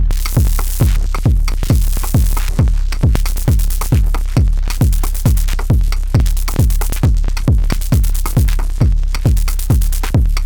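Steady electronic beat from a PULSAR-23 drum machine: crisp, hissy hi-hat ticks over thumping kicks, repeating evenly at a brisk techno tempo without pause.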